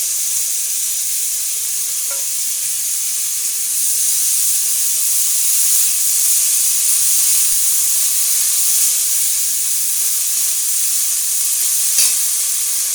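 Potato and eggplant pieces fry in hot oil for a chickpea-greens dish, a loud, steady broadband sizzle holding close and even throughout, with a faint clink near the end and no voices.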